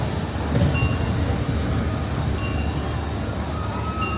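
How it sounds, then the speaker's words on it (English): An amusement park railroad train at Knott's Berry Farm rolls past as a steady rumble, with several sharp metallic clinks and squeals ringing out at intervals over the continuous low roar. "And there goes the railroad."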